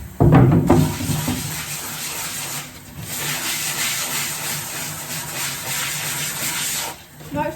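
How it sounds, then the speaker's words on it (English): Water runs over a screen-printing screen being rinsed, a steady close splashing hiss with a brief louder burst at the start and a short drop near the end, no talking. "So get some water on the screen."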